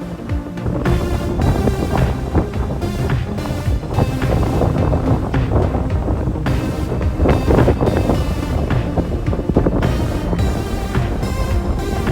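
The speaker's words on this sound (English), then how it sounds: "the wind was right on our nose again, so we ended up motoring the entire way" Strong wind buffets a sailboat motoring straight into a headwind, with water rushing past the hull; the roar is loud, dense and unbroken throughout.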